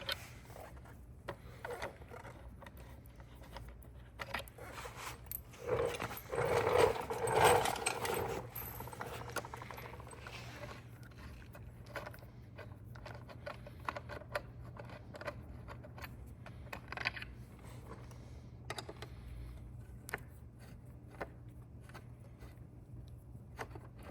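Bolts being loosened and removed from the headlight of a Venom E-Vader 2000W 72V electric motorcycle, giving soft intermittent metallic clicks and ratcheting with a brief louder burst of tool noise early on, close by and fairly quiet.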